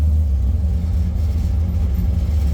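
A supercharged 1968 Chevrolet Camaro engine rumbles low and steady at close range as the car rolls off onto grass, a constant deep drone without talk.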